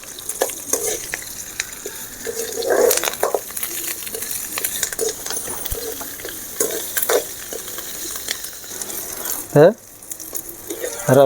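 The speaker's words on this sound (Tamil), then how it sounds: "வெங்காயம் நல்லா வதங்கணும்" Small shallots, curry leaves and garlic sautéing in a pan for fenugreek rasam, a close sizzle with repeated spatula scrapes and clinks against the pan and a sharp metallic knock near the end.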